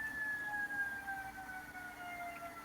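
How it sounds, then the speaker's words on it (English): An emergency siren wails in the distance, its pitch sliding slowly downward over a low background rumble. "Some thematic emergency sirens from someone."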